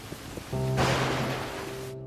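A sudden wash of steady rain hiss sweeps in and holds, with low sustained tones humming beneath it before it cuts off.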